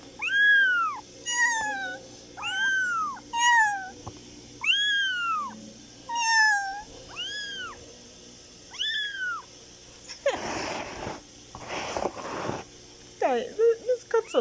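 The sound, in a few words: newborn kittens of a wild cat meowing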